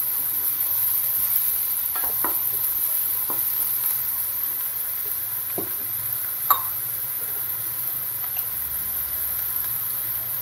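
Chilli and ginger-garlic paste fry in a pan with a soft, steady sizzle, broken by a few faint ticks and scrapes from stirring; no one talks.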